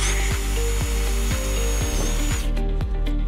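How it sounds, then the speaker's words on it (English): A power drill drilling pilot holes through a metal bracket whines steadily at high speed for a couple of seconds, then cuts out, with rhythmic knocking and mechanical rattle throughout, close by. "So we're gonna start with drilling pilot holes."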